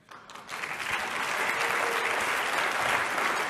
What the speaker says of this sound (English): Another big round of applause for Candace Owens.